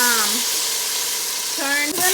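Loud, continuous sizzling of chicken frying in a pan, with a brief hum of a voice at the start and end.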